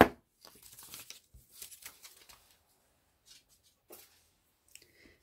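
Scissors snip through paper in a few short bursts of crisp rustling, close up, followed by scattered quieter crinkles and pauses.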